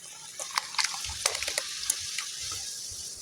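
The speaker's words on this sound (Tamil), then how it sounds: "கொஞ்சம் தண்ணி சேர்த்துக்குங்க." Water splashes and trickles steadily into a pot of Kanchipuram pepper kuzhambu, a continuous pouring wash with small clinks, heard alone without talk.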